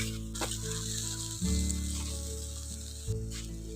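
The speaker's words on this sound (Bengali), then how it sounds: "এখন টকটা একটু ফুটতে শুরু করে দিয়েছে" A pot of sour curry made with raw green mango from the tree, fish roe and plenty of water, coming up to a boil with a steady close sizzle and bubbling, plus a low tonal hum underneath.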